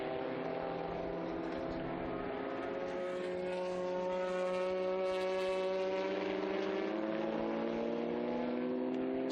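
Historic racing cars, including a yellow Porsche and a yellow Chevrolet Corvette, roar past in a sustained engine drone whose pitch slowly shifts, loud and continuous with no talk.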